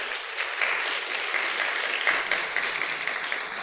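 A church congregation applauds a 95-year-old elder standing among them, a steady dense wash of many hands clapping at even loudness throughout, with no voices breaking through.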